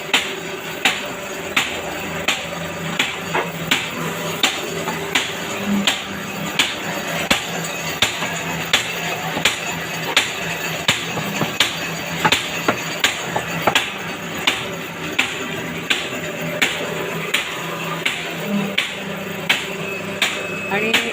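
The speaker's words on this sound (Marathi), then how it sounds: "आज स्क्वेअर कटिंग चाललेलं आहे." A square cutting machine runs in a small workshop beside a fertilizer shop, giving a sharp, regular knocking beat about once a second over a steady mechanical drone, with a voice talking at times.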